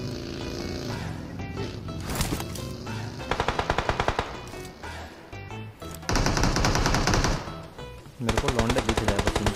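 Rapid automatic gunfire from the battle royale video game BGMI, loud bursts of machine-gun fire in several rhythmic volleys with short gaps between them, dense and continuous through most of the clip.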